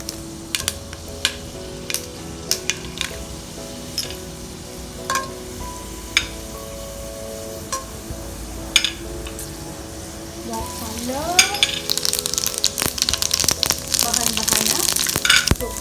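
Fish spice paste sizzles in leftover oil from frying fish, with sharp clicks of a utensil stirring the pan. The frying grows louder and denser near the end.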